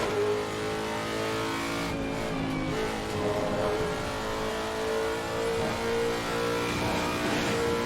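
A race car engine in Assetto Corsa Competizione revs and accelerates hard around the Nurburgring, a steady loud mechanical drone with rising and falling pitch and brief tire squeal, with no talking.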